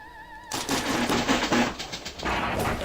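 Explosive rounds fire in BioShock, a rapid series of loud, crackling gunshot bursts following a brief tonal game sound, continuing densely to the end with no talk.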